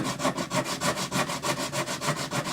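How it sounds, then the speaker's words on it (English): Rapid back-and-forth sanding strokes on the wooden bridge wing of a Yamaha FG180 acoustic guitar, about twelve even rasping passes, close and steady with no talk. "I need to sand that entire wing too."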